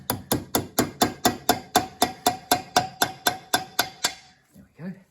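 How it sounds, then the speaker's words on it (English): A proper hammer taps a gear part into place on a machine assembly, about fifteen sharp metallic strikes in a steady even rhythm, close and loud, ending with a brief muffled voice. "Let's get a hammer, a proper hammer. So just going to tap that in"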